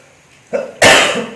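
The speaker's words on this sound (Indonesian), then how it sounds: "maaf pemirsa, saya agak batuk" A few sharp, loud coughs from a person close by, one burst following another with a brief gap before the last.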